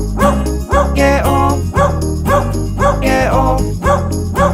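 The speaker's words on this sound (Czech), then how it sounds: "Starý farmář pejska měl, ten jmenoval se Bingo" Dog barks in a Czech children's song about a farmer's dog, several short rhythmic yaps sitting over a loud, steady band backing with no singing in this stretch.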